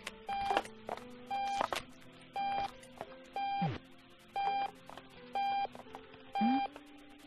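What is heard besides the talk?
alarm clock beeping in the video game Octodad: Dadliest Catch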